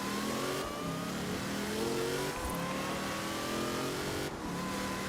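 A lightweight twin-turbo Mitsubishi Starion in Forza Horizon 4 accelerating hard, engine note climbing through several gears with rising tones and brief dips at each shift, loud and continuous.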